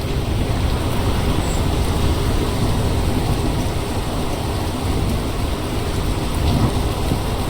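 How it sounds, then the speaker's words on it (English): Heavy rain and rolling thunder in a storm at sea in the sailing game Sailwind, a dense, constant downpour with a deep rumble that lasts the whole time, with no speech. "We can hear thunder."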